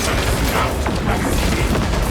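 A Revenant High Turret blowing apart in a Warhammer 40,000 co-op shooter: a loud, sustained explosion with rumbling booms and crashing debris, lasting a couple of seconds without talk.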